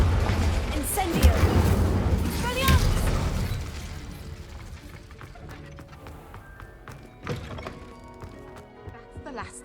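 Spell blasts of Confringo and Incendio in the video game Hogwarts Legacy: two loud, booming bursts with crackling tails in quick succession, fading into quieter ambient game sound.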